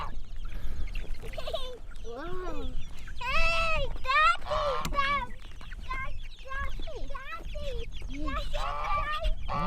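A flock of farm fowl, geese and chickens, honk and cluck close by in busy overlapping calls, loud bursts scattered throughout, with no talk.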